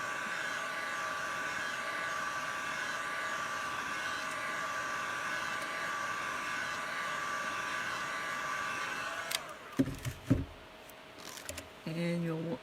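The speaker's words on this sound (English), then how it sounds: "now you'll want to go back and dry it a little bit with the heat gun" A heat gun blows a steady, loud hiss while drying a tie-dye tumbler, running evenly for about nine seconds before cutting off, followed by a few clunks and handling noises.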